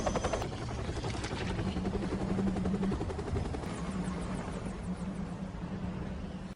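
A helicopter circles overhead in a night search scene from an action film, its rotor throbbing steadily and fairly loud, with a droning tone that lingers across the whole stretch.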